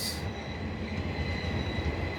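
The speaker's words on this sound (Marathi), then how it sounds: "इंडियन रेल्स इंडियन रेल्वे आहे फ्रेंड्स इंडियन रेल हे देखो" A train rumbles past continuously at Harangul railway station in Latur, India, with a steady low roar, metallic wheel noise and a faint high squeal throughout.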